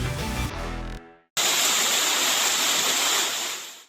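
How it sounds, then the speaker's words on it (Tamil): The flooded Courtallam waterfalls in Tenkasi pour after heavy rain as a loud, steady rushing roar. Brief music plays first and cuts out into a short silence before the roar starts and continues to the end. "குற்றால அருவிகளில் நீர்வரத்து அதிகரித்து வெள்ளப்பெருக்கு ஏற்பட்டுள்ளது."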